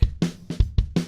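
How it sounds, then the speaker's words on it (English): Deep, booming kick drum thuds recorded with a Yamaha sub kick outside the drum, several quick hits in a row, close and loud with a low resonant tail. "You could hear the outside kick right there."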